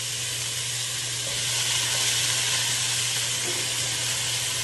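Onions and tomatoes fry in a pot, giving a steady, close sizzle with a constant low hum underneath, unbroken and fairly loud throughout.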